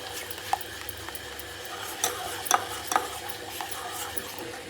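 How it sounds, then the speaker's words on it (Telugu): Soap base being stirred as it melts in a pot on a stove, heard as faint scraping and clinking of a spoon against the pot with a few sharper knocks over a low, steady background hiss. "మంచిగా కలుపుతూ ఉడికించుకోవాలండి దీన్ని"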